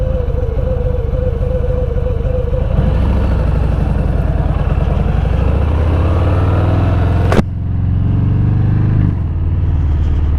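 A 2022 Harley-Davidson Fat Bob engine idles loud and close with a deep, lumpy rumble, then revs and settles before cutting down sharply near the end.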